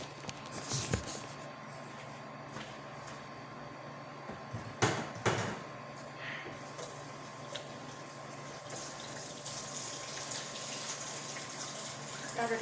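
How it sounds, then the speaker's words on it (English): A household faucet runs water steadily at close range in a home, a continuous broadband rush lasting the whole span, with a few sharp knocks and clatters partway through. "here are some faucet right over here."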